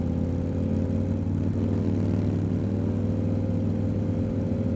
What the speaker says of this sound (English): She rides a motorcycle.